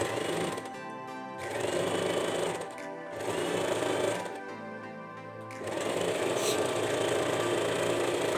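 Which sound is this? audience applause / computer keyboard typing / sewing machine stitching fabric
sewing machine stitching fabric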